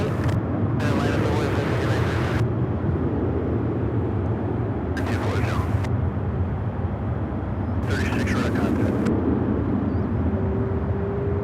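A jet airliner taxiing at Charlotte Douglas airport, its engines a loud, steady rumble and whine that carries through the whole stretch, with bursts of noise on top.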